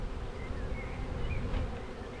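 Honey bees swarm and buzz around an opened hive while a good colony is merged with a failed one, a dense, steady drone that holds close and even throughout with no talk.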